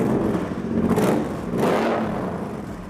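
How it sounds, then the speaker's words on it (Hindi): A 2013 Suzuki Boulevard M90 1500cc cruiser motorcycle engine starts and settles into a loud, close idle, with two brief revs in steady mechanical rumble and no talking. "मैं किल स्विच को ऑन करके इसका क्लच दबा के इसको स्टार्ट कर सकता हूँ इस तरह से।"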